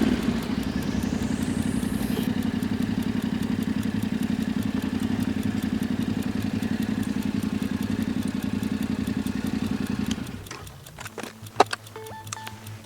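A Yamaha Tenere 700 motorcycle rides along a highway shoulder at reduced speed on a deflating tubed tire, its steady engine drone loud and continuous before dropping away near the end, with a few clicks after it.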